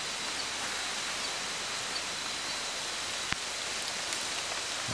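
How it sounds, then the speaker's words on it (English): Steady, dense rain falls through a rainforest in Australia, a continuous even hiss of drops on leaves throughout, with one brief sharper tick partway through and no voices. "The rain's eased just a little, but it's still pretty wet."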